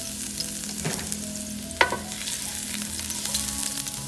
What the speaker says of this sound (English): I'm going to warm up our olive oil. First, we're going to add in our garlic.